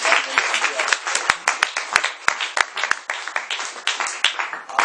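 A church congregation claps steadily, many hands producing a dense, continuous patter of applause with sharp individual claps standing out throughout.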